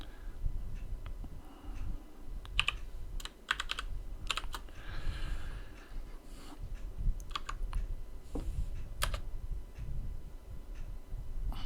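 Quick bursts of clacking keys as a password is typed on a computer keyboard, close and dry, in irregular clusters with short pauses between them.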